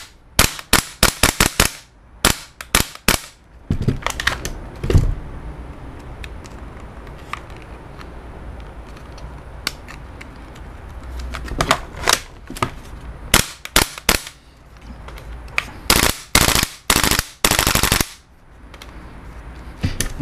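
A WE MSK gas blowback airsoft rifle fires in sharp, close cracks, some in rapid strings and others as single shots, with mechanical rattling between bursts.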